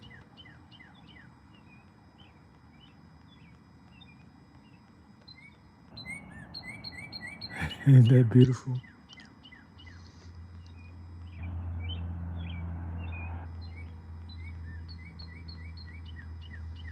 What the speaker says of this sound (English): That's the bird symphony welcoming the new day.